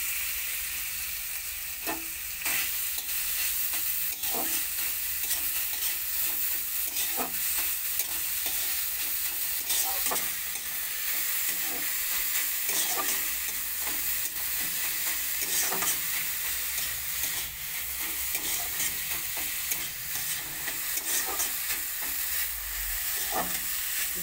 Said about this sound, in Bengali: গাজরটা আমি হালকা ঘিয়ে ভেজে নেব।